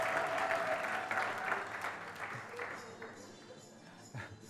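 A church congregation applauding, dense clapping from many hands that is loudest at first and gradually fades, with a few louder claps near the end.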